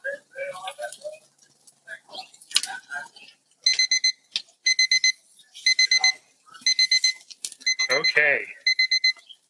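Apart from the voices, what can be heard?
cooking timer alarm going off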